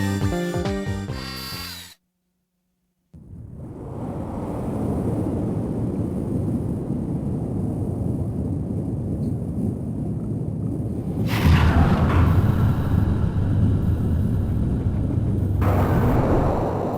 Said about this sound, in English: So that's the cause of the giant explosion, huh?